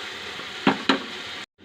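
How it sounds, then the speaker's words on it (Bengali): Spice masala fries in oil for chole, a soft steady sizzle with two sharp scrapes of stirring close by before the sound cuts out. "এই যে আমার মশলাটা ভাজা ভাজা হচ্ছে"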